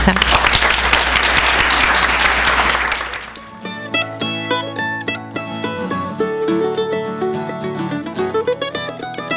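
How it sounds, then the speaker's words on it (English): A breakfast audience at a chamber of commerce panel gives the panelists a warm round of applause for about three seconds, then the clapping stops and bright, tonal theme music takes over. "So can I, another round of applause?"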